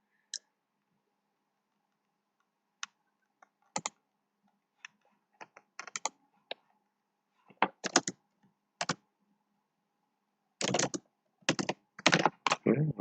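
Computer keyboard typing comes in sparse single clicks, then quicker bursts of keystrokes that grow denser toward the end, close and crisp against near silence.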